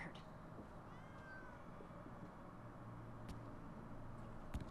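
A cat meows once in the Minecraft Story Mode game, a short faint tone over a steady background hum, with no talking.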